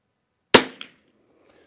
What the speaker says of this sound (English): First shot fired.